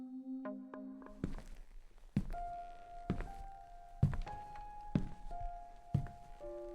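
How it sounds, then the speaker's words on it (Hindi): Footsteps in a horror story. Slow, heavy, dull thuds land one at a time about a second apart, with faint tonal hums droning underneath and no voices. "उसे फिर वही कदमों की आवाज सुनाई देती है, इस बार पहले से ज्यादा पास"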